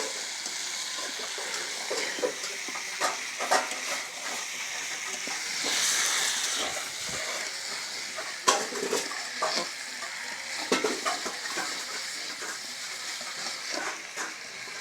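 Tomato and onion added to fried potatoes sizzle steadily in oil, with a spoon repeatedly stirring and scraping the pan throughout.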